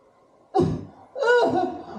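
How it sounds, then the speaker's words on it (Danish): A person coughing during a stage comedy revue, two harsh bursts about half a second apart, the second longer and more strained, loud and close with no talk over them. "Og jeg hoster lidt."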